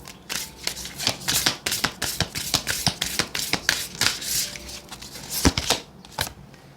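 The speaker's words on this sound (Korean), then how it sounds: "오라클 카드도 한 장 보도록 할게요." Oracle cards being shuffled by hand for a tarot reading, a close, quick run of crisp riffling slaps and flutters that thins out near the end.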